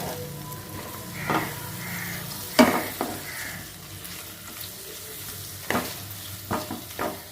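Chopped onion sizzles in hot soybean oil while a utensil stirs it, giving a steady close fry with a few sharp scrapes and clinks against the pan and no voices.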